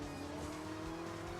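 A steady engine drone with a sustained tonal hum from a car in the game Hill Climb Racing 2, continuous and fairly loud with no talking.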